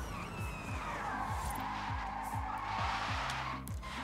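Electric motor whine of a Ford Mustang Mach-E in the racing game Forza Horizon 5, with a steady hum, rising gear-like tonal sweeps and light tire noise, continuous and moderately quiet.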